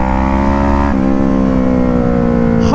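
A 2012 Kawasaki ER6N motorcycle engine drones loud and close under throttle, its pitch dipping briefly near the start before holding a steady, strong note without talk.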